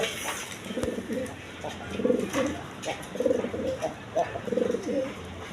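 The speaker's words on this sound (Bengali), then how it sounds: "মাত্র 2000 টাকা, একদম বিগ সাইজের ইউসেফের লাহোরি কবুতর।" Big Lahori pigeons at a pigeon farm coo in repeated soft, rhythmic bursts at close range, with the cooing continuing steadily throughout.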